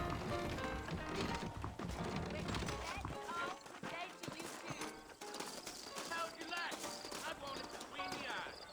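Horses' hooves clip-clop in the Western video game Red Dead Redemption, a busy rhythmic clatter that runs throughout and is mixed with game music, effects and voices speaking over it.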